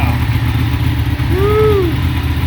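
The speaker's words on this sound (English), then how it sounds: "So why don't you thumb the starter there and let's see what she sounds like." A 2016 Ducati 1299 Panigale S runs with a loud, close, steady rumbling idle, and a brief rising-and-falling tone sweeps over it midway.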